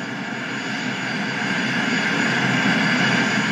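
Steady, loud drone of a Bombardier CRJ700 regional jet's engines heard from inside the cabin during a short flight, a continuous roar that swells slightly with no speech.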